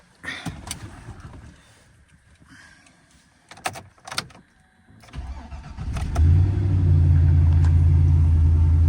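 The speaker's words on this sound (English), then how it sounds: "Let's cold start the old Chevy." An old Chevy engine cold-starts outdoors in snow: a car door bangs and clunks amid quiet shuffling, then the starter cranks and the engine catches into a loud, steady, close idle rumble with noisy front pulleys.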